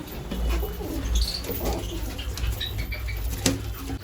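A mother pigeon feeding her chick coos softly nearby, with brief wing flaps and light rustling, while a few thin chirps from other birds sound in the background.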